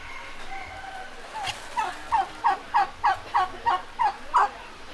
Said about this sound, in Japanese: 七面鳥だそうですね。